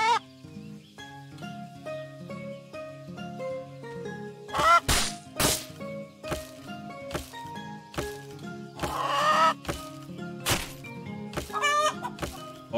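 Chicken clucks and squawks come from the survival video game Keep Up Survival on a tropical island map. Repeated bursts of close, loud clucking sit over a constant droning game soundtrack, with no voices.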